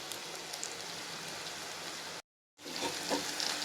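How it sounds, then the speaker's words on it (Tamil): Onions sauté in oil for a dried prawn and vathal stew, a soft, steady sizzle and crackle broken by a brief silent gap before resuming. "வெங்காயம் நல்லா வணங்கிடுச்சு பார்த்திங்களா."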